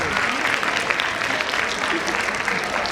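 Steady audience applause fills a school annual function, a dense, continuous wash of clapping from a crowd with no talk on top.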